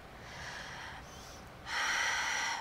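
A deep breath during a relaxing Pilates mat session: a soft, drawn-out inhale through the nose, a brief pause, then a louder, fuller exhale, close and alone.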